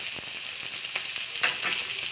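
Sliced shallots sizzling in hot oil with mustard seeds in a home kitchen pan, a steady bright crackle with a few sharper pops and faint stirring, close up and with no voices.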